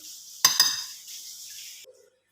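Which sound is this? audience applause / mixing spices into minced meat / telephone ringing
mixing spices into minced meat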